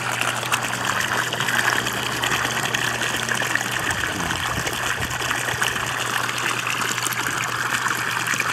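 Water from a 16,000-liter-per-hour pump pours steadily into a recirculating (RAS) fish pond, a loud, close, continuous gushing and splashing with a faint hum beneath and no talk.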